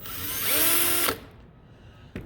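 Power drill with its bit grinding into ceramic tile, a loud high whine for about a second that cuts off abruptly, followed by quieter background and a short click.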